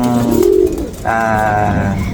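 A pigeon coos up close, a low throaty call followed by a second, longer warbling coo.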